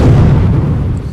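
Ship cannons fire in the naval strategy game Windward, a loud, deep, rumbling boom that fades out over about a second.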